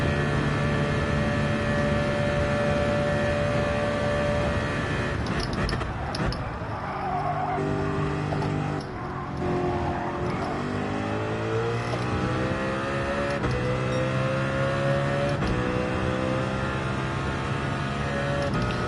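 A race car in Gran Turismo 7 is revved hard: a loud, continuous engine roar climbs repeatedly in pitch through the gears, with brief dips between shifts.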